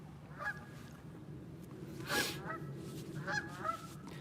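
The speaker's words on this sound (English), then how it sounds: "Today's the day for geese, that's for sure. They're all over the place." Geese honking outdoors near a fishing trail, several scattered calls at moderate distance over a steady ambient background, no talk.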